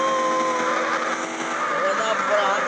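A BMW i8 runs at top speed in a racing video game, its engine a steady high whine with tonal harmonics, loud and continuous, with someone talking excitedly over it.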